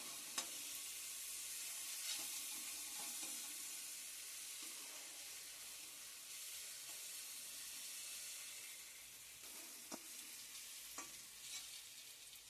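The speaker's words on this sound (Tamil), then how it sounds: "பூண்டு பேஸ்ட் நல்லா பச்சை ஸ்மெல் போற வரைக்கும் வதக்கிக்கலாம்" Garlic paste sautés in a pan for Maggi noodles with green chillies, making a continuous faint sizzle with intermittent scraping stirs and spatula taps over about twelve seconds, with no voices.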